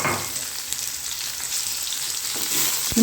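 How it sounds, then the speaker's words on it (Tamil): Radish pieces sauté in a hot pan with a steady, close sizzle and crackle that holds at an even level throughout, with no voices. "ஒரு பெரிய முள்ளங்கி இந்த மாதிரி பீசஸாக கட் பண்ணி வச்சுருக்கேன் அதை சேர்த்துக்கலாம்"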